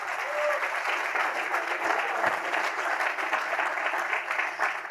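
A church congregation applauding during a sermon on prayer, a dense sustained wash of many hands clapping with a faint crowd murmur underneath, steady from start to finish.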